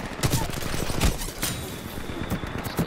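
Rapid bursts of gunfire from the multiplayer shooter Titanfall 2, dense overlapping shots with sharp transients over a steady loud background of game sound.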